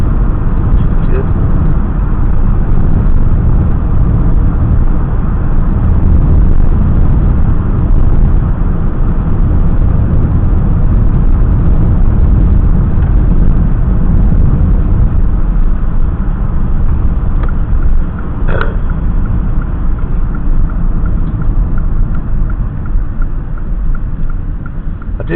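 Car driving on a clear night, with a steady low engine and road rumble running continuously and close inside the cabin.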